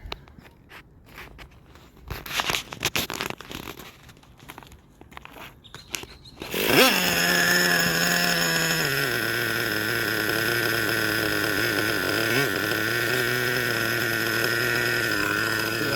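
Traxxas Revo 3.3 nitro RC truck, freshly rebuilt, shifting into reverse: quiet scuffs and shuffling give way to a sudden loud, steady high-pitched engine buzz that dips and wavers in pitch as it keeps running.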